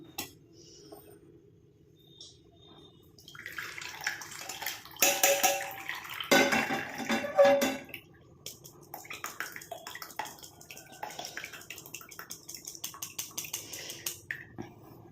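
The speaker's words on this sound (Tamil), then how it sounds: "நமக்கு டிகாஷன் ஓரளவுக்கு ஆறிடுச்சு நம்ம வடிகட்டிக்கலாம்" An herbal decoction for a homemade black-leaf hair dye is strained and poured into a vessel, with a soft trickling stream and a few light clinks of utensils, fairly quiet and close.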